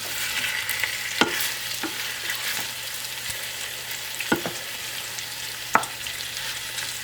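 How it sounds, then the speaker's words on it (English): Meat sizzling in a cooking pan while being stirred. A continuous hiss carries a few sharp scraping and clinking hits of the utensil against the pan, with no voices. "Now we're going to stir that all in."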